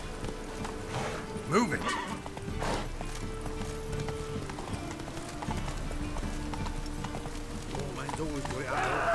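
A horse gallops in The Witcher 3, its rhythmic hoofbeats clopping steadily throughout, with a snort or whinny near the start and background game sounds, while a voice speaks briefly over it.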